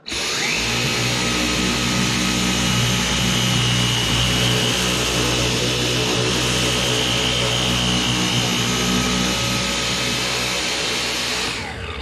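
A Dyson vacuum cleaner running on its medium setting, a loud, steady motor whine and airflow roar that starts abruptly and holds constant for about eleven seconds before cutting off; close, with no voices.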